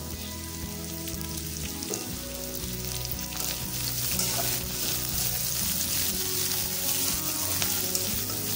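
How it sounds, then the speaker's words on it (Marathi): Garlic and green chili frying in a pan for a Maharashtrian fenugreek greens dish, a dense, steady crackling sizzle throughout with no talk. "मिरची चांगली भाजून घेऊया।"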